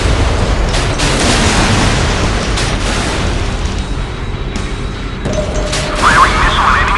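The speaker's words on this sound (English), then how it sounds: "Firing missile on enemy warships." A warship fires a missile in the naval combat game Modern Warships, a sustained roaring, rumbling boom that fills the whole stretch with bursts and a brighter crackle near the end.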